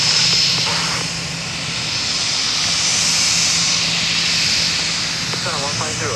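Airplane taking off at Songshan airport in Taipei in urban smog, a loud, steady engine roar sustained throughout the clip and swelling slightly toward the end.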